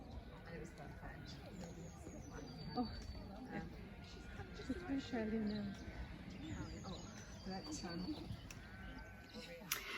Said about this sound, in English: you might hear the sheep on the hill baaing